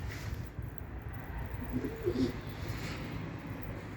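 A brief low cooing phrase from pigeons on an Istanbul rooftop rises midway through a steady hush of cold evening air and faint rain, without voices.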